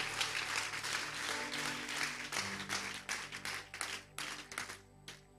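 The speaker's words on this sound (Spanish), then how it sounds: "Dele un fuerte aplauso" A church congregation claps during a Spanish-language worship service, a dense burst of applause that breaks into scattered individual claps and fades out.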